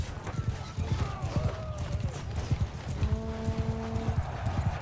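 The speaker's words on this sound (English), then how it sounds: "there's a huge cav charge coming" Cavalry horses charging in a medieval battle video game, a rapid, continuous clatter of hoofbeats with a few whinnies and neighs, close and fairly loud, with faint voices in the background.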